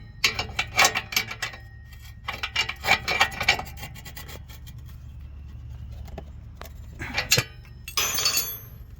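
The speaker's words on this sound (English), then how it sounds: "I'm going to take this box end wrench and use this to tighten it down." Box-end wrench tightening a rear oxygen sensor on a Jeep Grand Cherokee: close metallic clinks and rasping ratchet-like scrapes in short bursts, with pauses between them and a louder scrape near the end.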